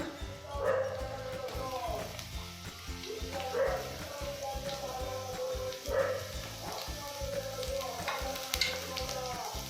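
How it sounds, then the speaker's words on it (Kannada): Thinly sliced onions fry in hot oil in a kadai with a steady sizzle and stirring. Intermittent yelping barks and voice-like sounds rise over the frying at intervals. "ಇದು ಬ್ರೌನ್ ಆಗೋವರೆಗೂ, ಗೋಲ್ಡನ್ ಬ್ರೌನ್ ಆಗೋವರೆಗೂ ಚೆನ್ನಾಗಿ ಫ್ರೈ ಮಾಡ್ಕೋಬೇಕು."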